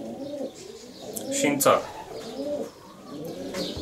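Racing pigeons in a breeding loft cooing softly in repeated low throaty phrases, close by, under someone speaking.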